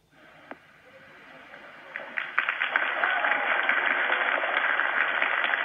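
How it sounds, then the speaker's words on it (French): Applause aboard the International Space Station during an Expedition 35 welcome broadcast, starting faint and swelling into steady, sustained clapping over a radio-like channel with light voices underneath. "Parce que là, ils ont entendu les applaudissements"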